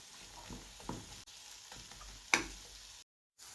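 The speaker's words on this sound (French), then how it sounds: "Donc je mets les oignons. Je laisse caraméliser doucement" Onions caramelising gently in a pan over low heat, a soft, quiet sizzle with occasional stirring scrapes and taps, and a brief silence near the end.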